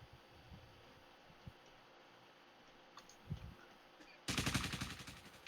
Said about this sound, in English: Gunshots and then like a reverberation of gunshots.